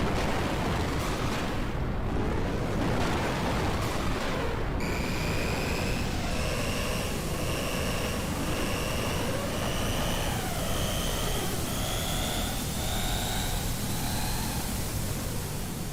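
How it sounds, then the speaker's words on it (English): A long, roaring explosion from a Squaresoft JRPG cutscene in Xenogears: loud, dense rumbling noise sustained for the whole stretch, with ringing tones rising over it partway through. "we gotta see the obligatory Squaresoft JRPG long ass"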